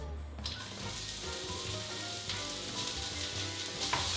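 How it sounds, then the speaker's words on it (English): Julienne carrots fry in hot oil in a pan over medium-high heat: a steady, dense sizzle that runs throughout, close and fairly loud, with brief stirring scrapes. "we're gonna fry 2 cups of julienne carrots"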